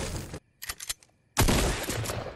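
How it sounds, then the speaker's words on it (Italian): Two close, loud pump shotgun blasts fired almost at once in Fortnite, followed by a few quieter clicking and rattling sounds, then a long, dense burst of heavy gunfire that carries on to the end. "Sparo con un pump e sparo con l'altro"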